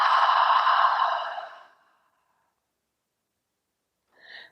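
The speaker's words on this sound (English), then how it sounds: "And soft exhale." A soft, breathy exhale during a qigong-style yoga breathing exercise, steady for about a second and a half before fading to silence, followed by a brief faint breath near the end.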